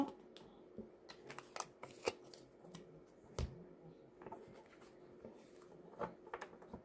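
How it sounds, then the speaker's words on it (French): A deck of tarot cards being cut and handled on a table, a quiet run of soft riffling and sharp card clicks and taps, close and alone without talk. "Alors, attendez, je vais faire une coupe."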